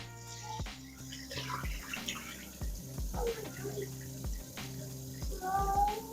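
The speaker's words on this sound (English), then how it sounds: "I think this is gonna be the last time I wash the rice" Rice is swished and rinsed in water in a bowl, with soft sloshing and trickling under a low, rhythmically pulsing hum, and a few squeaky clinks near the end.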